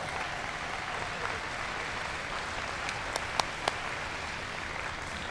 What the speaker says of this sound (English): How about a round of applause to all of them for their hard work?